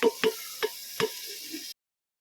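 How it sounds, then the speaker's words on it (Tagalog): Onion and garlic sautéing with liver for chop suey, heard as a soft pan sizzle broken by four sharp stirring or scraping knocks in a steady rhythm, close and fairly quiet, with no talk. "lagyan na natin yung sibuyas, bawang natin."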